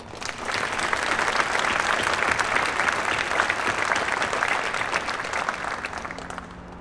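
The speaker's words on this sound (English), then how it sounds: "Please, round of applause for the nominees." Audience applause for nominees at a military retirement ceremony, a steady wash of clapping from many hands that swells early, holds, then thins slightly toward the end.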